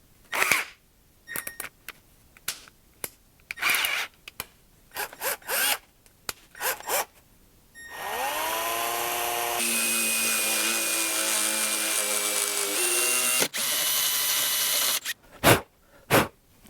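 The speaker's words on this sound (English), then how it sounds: "So let me drill that out for 4." After a few scraping and handling noises, a power drill spins up and whines steadily for several seconds drilling a hole for a DIY used oil burner, then stops, followed by short clunks.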